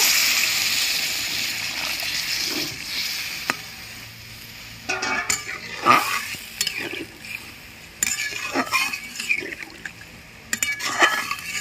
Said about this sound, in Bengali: কষানো হয়ে গেছে, আমি এবার পরিমাণ মতো জল দিয়ে দেব।